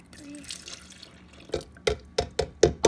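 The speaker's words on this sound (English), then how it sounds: "Okay, so we're gonna pour it in" Thick strawberry milkshake poured into a glass, landing in a run of about six wet, splashy plops and glugs after a quiet start.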